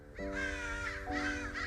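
An angry flock of crows caws while chasing a red-tailed hawk near a fire escape: two loud, harsh caws in quick succession, close and clear.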